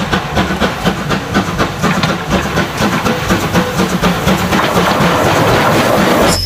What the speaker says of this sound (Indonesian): Wah, ini kereta api Thomas.